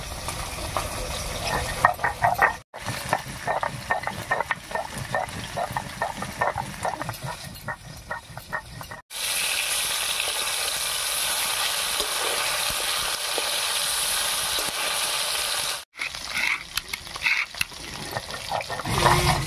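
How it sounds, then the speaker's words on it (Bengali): Fish pieces fry in hot oil in a kadai, a steady sizzle that grows louder and more even partway through, with intermittent scraping and clatter over it. "এই তেলেই বাকি মাছগুলো ভেজে নিচ্ছি"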